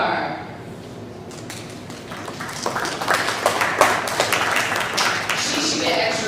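Applause from an audience at a school awards ceremony honoring a student, swelling from about a second and a half into dense, steady clapping that continues to the end, with crowd voices mixed underneath.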